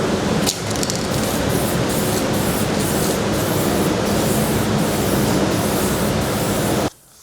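Spray gun laying a guide coat onto a Holden Torana car panel: a steady, loud hissing spray that runs continuously for about six seconds with a brief break near the start, then cuts off abruptly.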